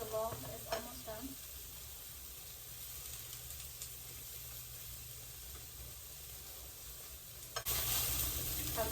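Green scallion tops frying on low heat in a pan, a steady soft sizzle and hiss with some stirring clatter near the start and a louder burst of frying at the end.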